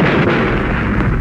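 A firing squad volley in a Fernando Poe Jr. film erupts as a dense, booming roar of massed gunfire, sustained and loud throughout the brief moment with no voices.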